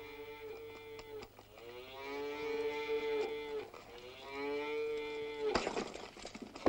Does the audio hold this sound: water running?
no